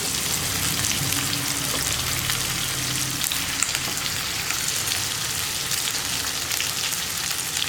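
Sliced onion and green chilli frying in a pan of hot oil, a loud, dense, continuous sizzle and crackle filling the whole stretch without a pause.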